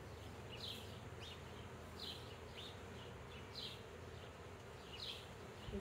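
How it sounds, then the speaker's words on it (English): Agitated bees buzzing around outdoors in a yard in Casper, Wyoming, with several brief buzzing passes flitting close by over a steady low rumble of background noise. "I got cranky bees on me."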